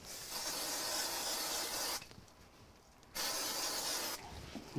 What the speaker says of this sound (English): So I'm going to go ahead and put this into place with some spray glue.